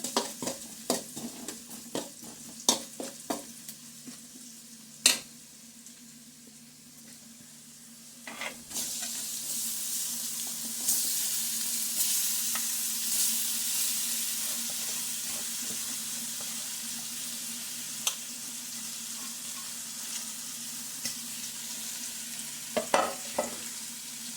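A spoon scrapes and clatters in a pan, then a loud sizzle rises as amaranth greens hit hot tempering oil and keep frying, with more scattered stirring clicks.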